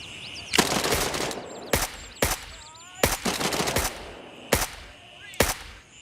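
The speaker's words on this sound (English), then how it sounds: "Gunshots are a little odd in this game" Gunfire in Gray Zone Warfare in sharp bursts, automatic rattles alternating with single loud shots, separated by brief pauses with faint chirpy background tones.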